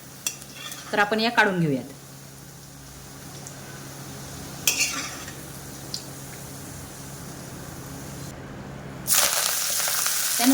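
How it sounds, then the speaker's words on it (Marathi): Green chilies roasting crisp in a pan for chivda, with a steady low sizzle, a few spatula scrapes and clinks against the metal, and someone speaking briefly near the start. "मिरच्या पण छानपैकी आपल्याला खरपूस अशी भाजून घ्यायची आहे."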